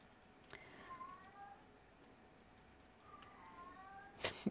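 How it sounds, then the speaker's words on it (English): A cat meows twice in a quiet room, two soft, falling cries a few seconds apart, followed by a brief sharp clatter. "Cat."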